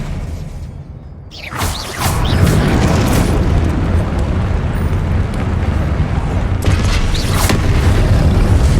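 Loud spell blasts and booming magical impacts from the Confringo and Expelliarmus spells in the video game Hogwarts Legacy, with whooshing bursts and a sustained rumbling roar, accompanied by a voice.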